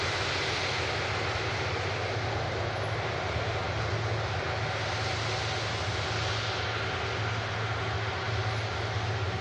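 An EasyJet airliner's jet engines winding up at Manchester Airport, a steady, dense broadband roar holding at a constant level throughout, with no talk.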